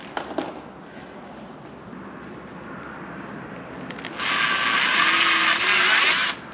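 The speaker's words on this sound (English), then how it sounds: "Okay, we'll drill through." A power drill bores through a part while a CTS-V conversion kit is installed on a Cadillac CTS-V Sport, with steady low mechanical whirring that swells into a loud, high-pitched grinding whine before it stops abruptly.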